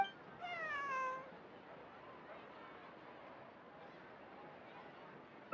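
A cat in the video game Genshin Impact gives one short meow near the start, then a quiet murmur of background game ambience follows with no speech.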